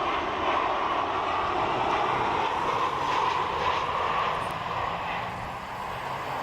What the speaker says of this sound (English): It's basically a 737 converted into a submarine attack aircraft.